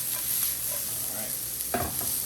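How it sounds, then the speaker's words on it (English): Chopped scallions sizzle and fry in a pan while a spatula stirs them, with a brief louder scrape near the end, steady and close with no talking. "I'm just gonna cook this down a little bit to get it nice and like tender"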